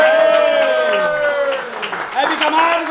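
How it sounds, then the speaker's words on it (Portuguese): An audience claps at a bridal shower party hosted by a drag performer, a steady wash of applause running under a loud voice for the whole short stretch. "Gente, aplaudo pra Dercy."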